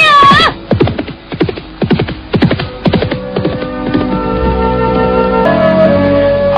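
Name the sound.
horse galloping and neighing, audio drama effect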